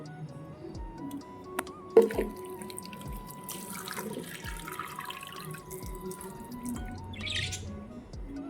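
Small birds splash in a bowl of fresh water on a hot day, with faint flutters and sloshing under steady background hum, scattered chirps and one sharper knock near the start.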